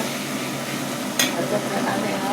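Sautéed onions being stirred into a hot pan, a steady soft sizzle and frying hiss with one brief scraping clink of the spoon midway, close up.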